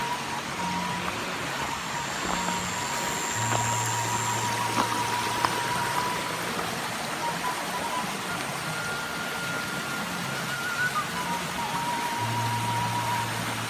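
A small, clear river flows steadily through a rural village in southern Cianjur, a continuous close rushing of water with faint tonal background hums and no talk.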